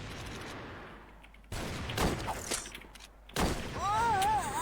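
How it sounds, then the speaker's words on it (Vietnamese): Gunfire in a shooting video game, heard as bursts of rapid shots and sharp reports that cut in abruptly, with game sounds and a warbling tone toward the end. "Vừa nghe thấy tiếng súng đây này."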